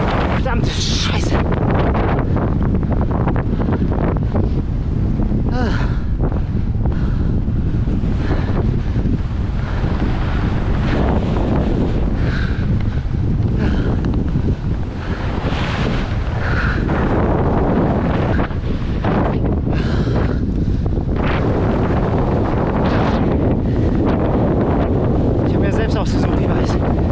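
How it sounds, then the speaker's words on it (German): Strong wind roars across the microphone on a dike beside a windbreak, a constant loud buffeting rumble with no letup, with a cyclist pushing a bike into it. "Geil, endlich wieder Wind."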